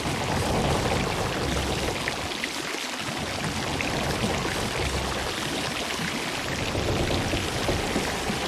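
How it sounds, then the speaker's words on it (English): Water floods through a hole in a wooden boat in the Sea of Thieves video game, a steady loud rushing pour with dense splashing that continues without pause. "here's what it sounds like when you have a hole in the boat"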